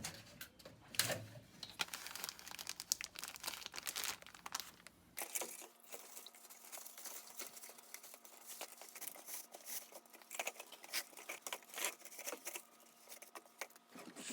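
A fabric drain sock is worked over a cut length of drain pipe during basement waterproofing, with soft close crinkling, rustling and light tapping in irregular bursts and no speech.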